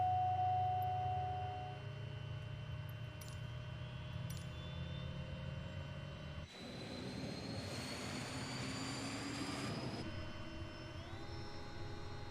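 Aircraft engines at low idle in a flight simulator: a steady turbine whine and hum with shifting tonal layers, joined midway by a broad rushing swell that stays steady until near the end, with no talking.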